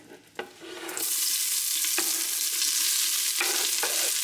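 Red onions dropped into hot olive oil in a stainless steel pressure cooker, a couple of light knocks and then a loud, steady, close sizzle that holds without talking.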